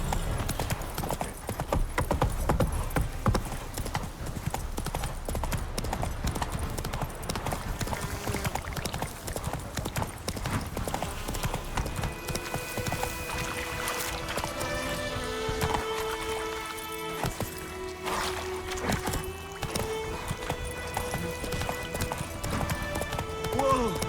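Horse hooves clip-clop steadily at a gallop in The Witcher 3, a continuous rhythmic patter over the ride with a voice and game music layered on top.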